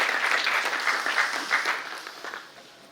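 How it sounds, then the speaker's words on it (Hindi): An audience at a theatre festival award ceremony claps loudly for an honoree, dense steady applause that gradually thins and fades toward the end. "एक बार जोरदार तालियां ज्योत्सना मेहता जी के लिए।"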